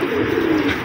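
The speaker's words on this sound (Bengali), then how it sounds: "সাদা পায়রা।" A white pigeon coos softly but close up in a single short, low burble, with no other sound around it.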